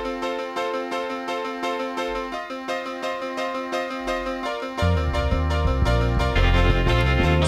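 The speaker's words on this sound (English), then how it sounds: "I also added a piano part that was played with the Proteus 2000" Layered synth-module piano part from a Proteus 2000 sound module in a cassette multitrack recording, steady sustained chords that thicken midway as a heavier low end enters, playing alone without talk.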